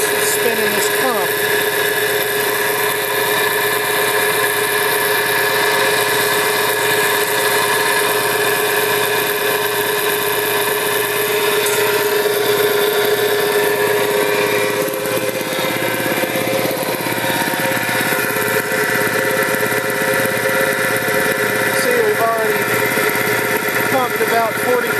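A vintage air compressor runs steadily with its big old motor spinning the pump, a constant, fairly loud mechanical hum and whir that fills the whole stretch without pause.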